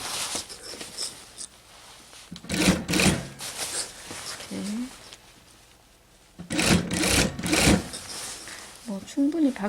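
An industrial sewing machine stitches a padded coat in two rapid mechanical bursts of needle clatter, separated by quieter handling and rustling, with voices talking nearby.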